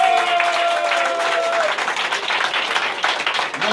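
A church congregation at a healing seminar applauds and cheers for Jesus, a dense, loud wash of clapping that runs steadily throughout with raised voices mixed in.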